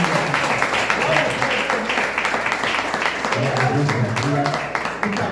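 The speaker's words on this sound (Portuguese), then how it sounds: "E uma salva de palmas para Jesus." A church congregation applauds during a service, steady clapping with voices speaking and calling out over it, a tonal voice rising near the end.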